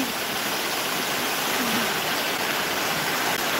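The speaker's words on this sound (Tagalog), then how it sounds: "So, doon galing yung tubig na itong bumabagsak doon sa tuktok ng bundok na yun." A mountain waterfall in Switzerland, with water tumbling down from a peak, makes a constant, dense roar of rushing water, steady and fairly close throughout, with no talking.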